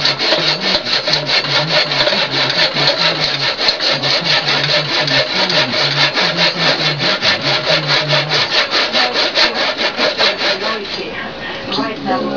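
Hand saw cutting a wooden tenon for a rustic bed frame, rapid even back-and-forth rasping strokes close by, steady for most of the stretch before slowing and thinning near the end.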